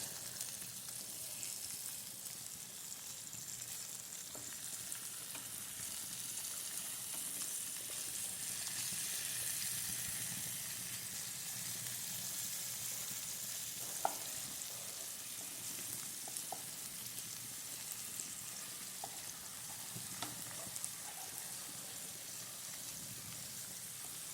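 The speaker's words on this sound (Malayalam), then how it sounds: "അത് വറുത്തിട്ടെടുക്കട്ടെ, മറിച്ചിട്ട്." Food fries in a pan with a soft, steady sizzle, turned over now and then with faint scraping, quiet and somewhat distant, no talking.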